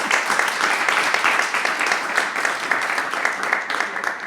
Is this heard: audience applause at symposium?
yes